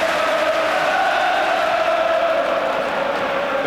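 A large football crowd at Anfield applauds and cheers for Liverpool's Peter Beardsley during a match against Nottingham Forest, a steady, dense roar of clapping and voices that holds throughout.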